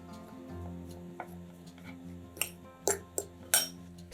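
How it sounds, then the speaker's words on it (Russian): A fork clinks and scrapes against a bowl a few times while mashing egg yolks, soft mashing sounds with sharp metallic taps over a faint hum. "Подготовленные желтки разминаем вилкой."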